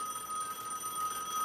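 A telephone bell rings steadily in a TV show, a continuous faint trilling tone heard alone without talk.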